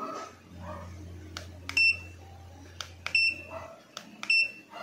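A multimeter's continuity buzzer sounds in three short tonal beeps, spaced about a second and a half apart, during a repair check on a non-working HD microscope's circuit, with faint background hum.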